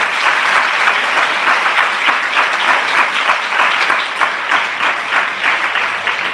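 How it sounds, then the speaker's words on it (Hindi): Loud, sustained applause from a church congregation, a dense steady wash of many hands clapping together without pause. "क्यों ना जोरदार तालियों के साथ उस परमेश्वर का तहे दिल से आज हम शुक्रिया अदा करेंगे"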